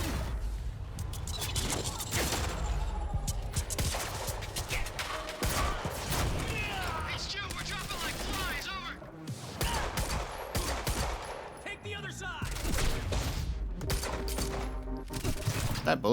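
Dense bursts of rapid gunfire in the video game Quantum Break, shots overlapping with whooshes and mechanical clatter throughout, a loud continuous firefight with a voice talking over it at times.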